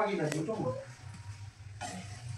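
Bhetki fish fillets frying on a small tawa give a soft, steady sizzle close by, with a clink early on, beneath a person talking.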